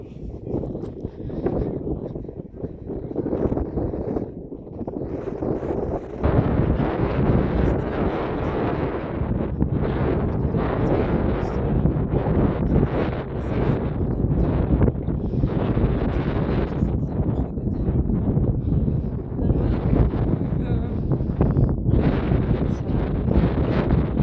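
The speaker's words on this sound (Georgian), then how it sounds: "მაგარი ქარია." Strong wind blows outdoors on a rocky height, roaring and buffeting against the microphone in loud sustained gusts, with no clear talk over it.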